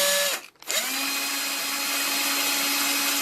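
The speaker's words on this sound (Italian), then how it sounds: "Conviene fare un buchino molto piccolo con il trapano, una punta molto fine" A power drill with a very fine bit whines steadily, drilling a small hole in hard wood for a Warré beehive, briefly cuts out, then spins back up and runs continuously at close range.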